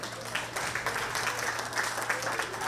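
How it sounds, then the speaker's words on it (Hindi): An audience at a school annual day celebration claps steadily, a dense wash of applause from a moderately sized crowd in a hall with a faint low hum underneath. "मैं आमंत्रित करना चाहूंगा जोरदार तालियों के साथ वरदराजन आइए सर को।"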